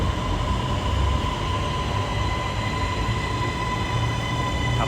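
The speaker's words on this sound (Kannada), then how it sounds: "ಟ್ರೈನ್ ಬರ್ತಾ ಇದೆ." A Bangkok metro train pulls into a station with a steady, loud rumble and whooshing noise under a faint high whine, continuous throughout with no talking.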